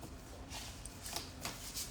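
A tarot deck shuffled by hand, a quiet close riffle of soft card slaps and shuffling bursts coming in a few quick waves over two seconds.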